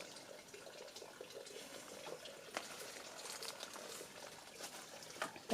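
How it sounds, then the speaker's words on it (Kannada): A hillside stream flowing near a village home, a soft continuous trickle and wash of water heard faintly at a distance, steady throughout with a few brief splashy spikes and no voices. "ಇಲ್ಲಿ ನೀರು ಬರ್ತಾ ಉಂಟಂತೆ"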